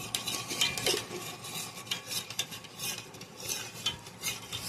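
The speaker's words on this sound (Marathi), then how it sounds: "सो आता मी हे छान असं चमच्याने फिरवलेलं आहे" A spoon stirring in a bowl: repeated close metallic scrapes and light clinks in an uneven rhythm, moderately loud, with no voices.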